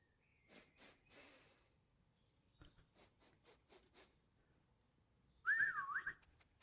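A short melodic whistle to call a dog in a video game rings out near the end, loud and close, after a stretch of soft rustling, the dog sniffing and faint game ambience.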